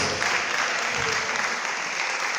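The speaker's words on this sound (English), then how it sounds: "please can you give them a big round of applause?" A conference audience at a legal event claps for panel speakers, a continuous wash of applause that holds steady and fairly full throughout, with no voices on top.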